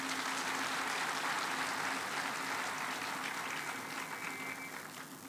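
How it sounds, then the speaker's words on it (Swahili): Sustained crowd applause at the CemTech Ltd factory opening in West Pokot, Kenya, steady and fairly distant, tapering slightly toward the end with no talk over it. "Tafadhali huyu muungwana tumpigie makofi jameni."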